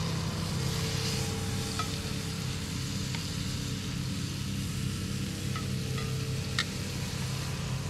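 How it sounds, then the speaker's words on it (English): Beef short ribs searing in olive oil in a pan at a campsite, a continuous low sizzle with faint crackles and pops over a steady background rumble; no speech. "we're just going to give them a really good quick sear all the way around"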